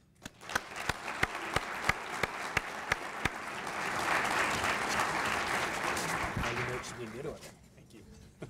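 Audience applause welcoming Mayor Pro Tem John Marriott to the stage at the 2018 Arvada State of the City, starting with a few scattered loud claps that swell into sustained crowd clapping before fading out.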